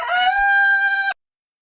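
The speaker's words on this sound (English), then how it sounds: "how about a double dose of the morning rooster?" A rooster crows loud and close in one long harmonic cock-a-doodle-doo of about a second, then cuts off into silence.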